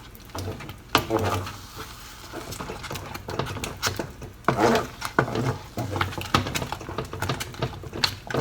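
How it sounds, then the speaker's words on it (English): A spoon or spatula works a thick, sticky warabimochi mixture in a pot over medium heat, giving irregular scraping and soft gloopy slaps that recur in quick bursts, close and fairly loud. "When the liquid gets sticky, turn down the heat to medium"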